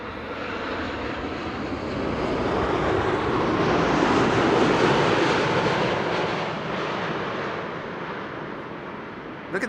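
A KLM airliner arriving on a long-haul flight from Cartagena, Colombia lands at Amsterdam Schiphol Airport, its engine roar swelling to a loud peak midway and then easing back off.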